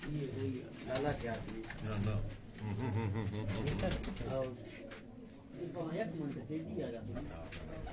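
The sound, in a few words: pigeons cooing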